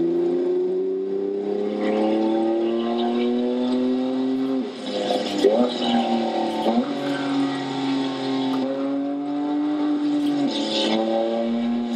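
Car engine revving hard through the gears, rising harmonic sweeps that drop sharply at each upshift around five and seven seconds, loud and close with no talking.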